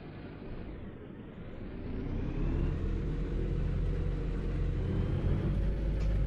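Peterbilt 350 truck engine in American Truck Simulator, a steady low diesel rumble that builds slightly in loudness and holds as the truck drives, with no talking.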